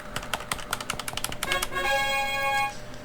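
Exile 3 video game: rapid clicking taps come first, then a bright electronic chime of sustained tones that sounds on entering a city and holds for about a second before stopping.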